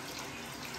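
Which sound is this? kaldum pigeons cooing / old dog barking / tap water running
tap water running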